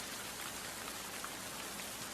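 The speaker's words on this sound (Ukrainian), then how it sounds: "це звуки осені, звуки дощу, вітру." Autumn rain and wind pour down in an unbroken, even hiss of many drops, with a few slightly sharper patters standing out; nothing else is heard.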